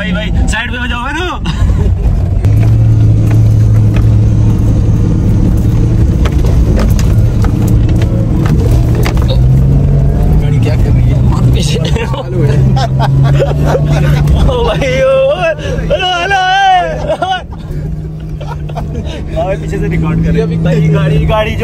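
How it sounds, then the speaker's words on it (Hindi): A Toyota Land Cruiser roars through repeated gear changes while spinning on desert dunes at Sealine Beach in Qatar, its engine note rising and falling loudly beneath excited shouting and chatter from passengers. "गियरों पे गियर, गियर पे गियर चेंज किए जा रहे हैं और गाड़ी जो है ना फुल घुमाते हुए"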